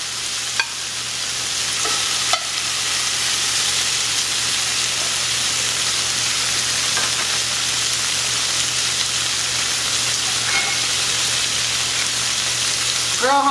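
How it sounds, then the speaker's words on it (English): Shrimp sizzle steadily in a hot pan for a Mexican molcajete dish, a dense continuous hiss of frying that stays loud and even throughout, with a faint low hum underneath. "our pan is hot in the back, I'm gonna go ahead and add my shrimp"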